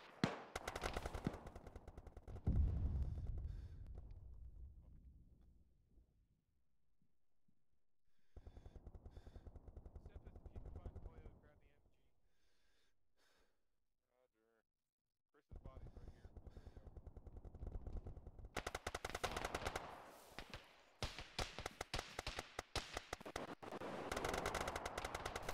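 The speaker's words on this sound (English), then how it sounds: "we're hearing more shooting" Gunfire in the military game Arma with the ShackTac group comes in long bursts of machine-gun and rifle fire, some loud and close and some lulls between, with occasional voices in the background.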